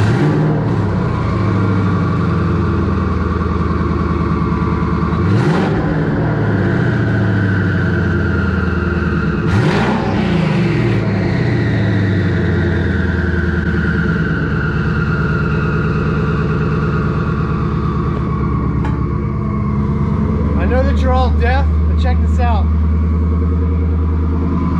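A 2019 Ford Mustang GT engine rumbles through a modified, very loud exhaust, holding a low idle with a couple of brief revs.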